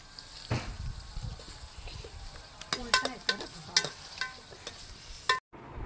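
Onions fry for a mutton curry at a farmhouse cookout, crackling and sizzling up close, with irregular sharp pops and scraping stirs that grow busier toward the end.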